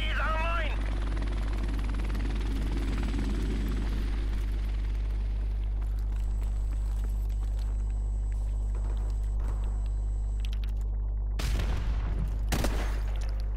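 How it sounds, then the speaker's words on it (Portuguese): An enemy helicopter in the video game Call of Duty: Modern Warfare gives a constant deep rotor rumble, steady and loud. Explosive bursts and gunfire cut in near the end, and voices talk in the background. "Enemy helicóptero."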